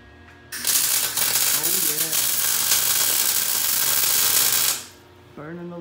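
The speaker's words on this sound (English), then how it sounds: "getting some tacks in on the motor mounts here" Welder laying tack welds on motor mounts for a Gen V L83 5.3-liter V8 swap, a loud crackling sizzle held for about four seconds before stopping, with a voice briefly heard around it.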